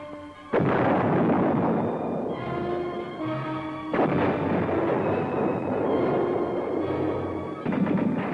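An M60 Patton main battle tank firing its 105mm cannon: several loud, booming blasts, each with a sharp onset and a long rumbling decay, spaced a few seconds apart.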